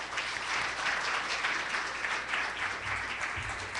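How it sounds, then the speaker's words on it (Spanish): An audience claps continuously for a few seconds, a dense, even wash of applause welcoming a guest speaker. "Un aplauso, por favor."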